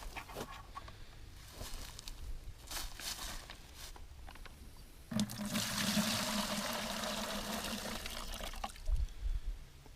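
Maple sap is poured from collection buckets: quiet drips and trickles at first, then a steady, close pour of liquid running for the second half.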